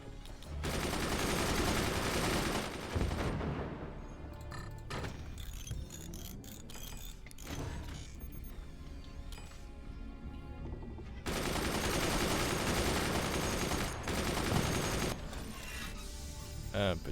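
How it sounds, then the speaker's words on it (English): Sustained bursts of rapid machine gun fire from the Forts video game rattle away, pause briefly, then open up again in a long second burst, heard clearly without any talking over them. "Good job, machine gunners."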